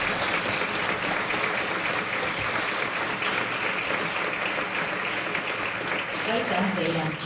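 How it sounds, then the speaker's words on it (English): A conference audience at a Baltic cultural centres meeting gives continuous, dense applause. The clapping holds at an even level for several seconds and fills the hall. "let's give them a clap"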